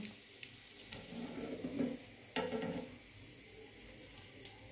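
Chicken potato croquettes frying in oil, a soft bubbling sizzle that swells in two short bursts as pieces are stirred or turned, with faint clinks over a quiet kitchen background.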